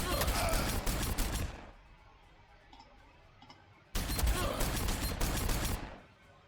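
Ork units in Warhammer 40,000: Sanctus Reach fire two bursts of rapid rattling gunshots, each lasting about two seconds, with a quiet gap between them and faint ticks in the pause.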